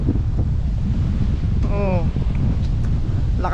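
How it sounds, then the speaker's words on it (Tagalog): Strong sea wind buffets the microphone in a constant loud roar, with a brief voice rising over it midway. "Lakas ng hangin."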